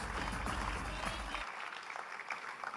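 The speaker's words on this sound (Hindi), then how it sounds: "मैं एक बार फिर चाहूंगा कि अपने लिए जोरदार तालियां बजाएं" Audience applause at a company product event, a moderate wash of clapping that is fuller at first and then thins out, heard alone without talk.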